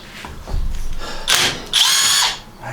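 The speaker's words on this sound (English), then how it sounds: "little Harbor Freight Hercules impact driver, and I've been using the snot out of this thing." A small Harbor Freight Hercules impact driver removes hex screws in three loud, close bursts of whirring hammering, the last one longest, separated by brief pauses.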